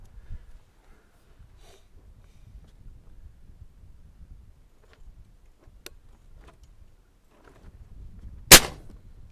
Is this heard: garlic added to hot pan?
no